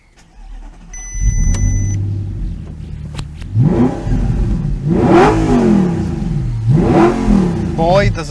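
A 2008 Audi R8 with a 4.2-litre V8 of 420 horsepower starts, then revs hard in several rising, falling bursts, loud and close, each swell building and dropping away.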